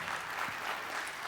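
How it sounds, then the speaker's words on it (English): Steady applause from a conference audience at a Scrum gathering, a dense wash of clapping throughout, fairly close and even in loudness. "We need an applause."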